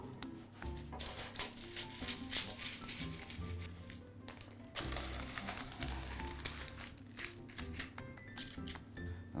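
Baking paper being trimmed by hand around a sourdough loaf: crisp rustles and crinkles with scattered snips and taps, close and continuous over several seconds with no talk.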